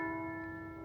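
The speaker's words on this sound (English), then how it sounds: "You can hear the church bell." A church bell near a cave rings out as a short, sustained metallic tone with clear overtones, fading slightly over less than a second.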